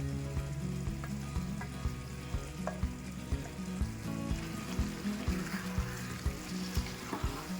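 Grated mango ginger sizzles in a frying pan while small potatoes for aloo dum cook. A steady frying hiss runs under regular, close spatula taps and scrapes. No one speaks.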